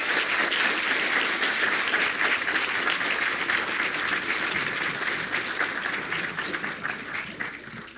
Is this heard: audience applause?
yes